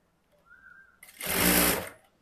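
An industrial sewing machine fitted with an S537 elastic lace foot gathers fabric in one loud, close burst of stitching lasting about a second, after a faint steady tone.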